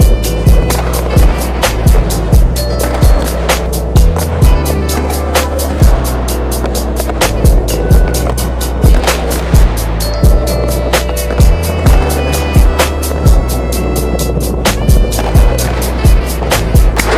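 Skateboard wheels rolling and clacking through repeated backside wallrides, with regular sharp board impacts and rumbling roll noise throughout, loud and close.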